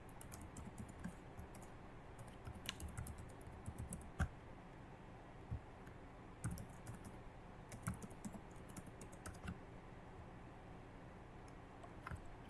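Quiet typing on a computer keyboard, a stream of soft irregular key clicks with a few louder taps, heard alone without talk.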